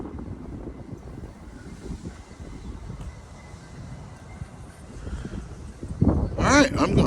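Wind buffets an outdoor microphone at a fairground with a low, uneven rumble, rising into a louder gust near the end.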